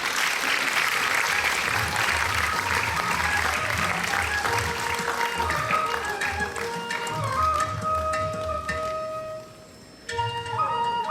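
Sustained audience applause fills a hall at a silver jubilee celebration, dense and steady before thinning out near the end, with a brief pause and a fresh burst of claps as a tonal sound enters.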